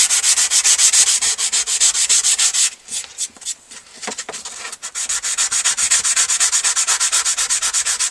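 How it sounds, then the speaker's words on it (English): Sandpaper scrubs glue off a phone holder in quick, steady back-and-forth strokes, with a short irregular pause in the middle before the rhythmic rasping resumes, close and fairly loud. "I can just take some sandpaper and just sand that little bit right there."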